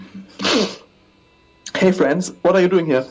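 A short, breathy nasal snort from a man during a Monster Prom play session bursts out once, followed after a pause by his voice speaking.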